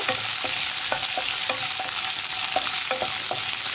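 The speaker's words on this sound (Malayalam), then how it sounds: "ഉള്ളിയും കറിവേപ്പിലയും ഒക്കെ ചേർത്ത് നന്നായിട്ടൊന്ന് വഴറ്റിയെടുക്കുക" Onions and curry leaves sauté in a pan for an okra, onion and tamarind curry. A constant hiss of frying runs under a regular tapping of the spoon against the pan, roughly twice a second, with no voices.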